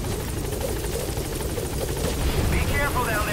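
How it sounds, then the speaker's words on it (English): Helicopter in Metal Gear Solid V: The Phantom Pain arriving at a landing zone, a steady loud rotor drone filling the whole stretch with a game-like whine rising toward the end. "I'm seeing my helicopter reach the landing zone"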